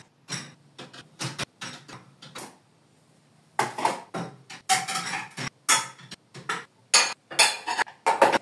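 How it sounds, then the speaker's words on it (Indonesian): Clean plates and dishes being moved onto a dish rack in a home kitchen, with a run of close, sharp ceramic clinks and knocks in irregular bursts, a quiet pause midway, then busier clattering. "aku mau langsung beresin cucian piring yang udah aku cuci kemarin sore"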